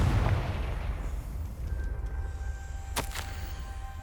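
Confringo blasting spell from Hogwarts Legacy erupting as a dense, rumbling explosion under a low roar, with a sharp crackling burst near the end and a lingering tonal whine.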